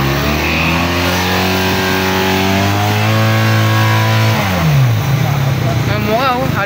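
A 400cc sport motorcycle on its stock exhaust pipe revs up to a sustained high engine note and then drops back, loud and close, with someone talking over it.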